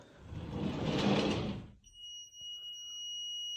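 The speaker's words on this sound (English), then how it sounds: "And the buzzer has sounded." A rustling, shuffling noise as a door opens gives way to a steady, high electronic door alarm buzzer tone that keeps sounding on its own.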